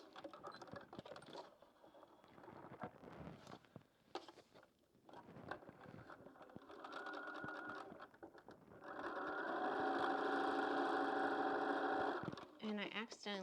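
A domestic sewing machine stitches scrappy quilt block fabric in short bursts, then in one longer steady whirring run, close by, with handling clicks and rustles and a person talking in between.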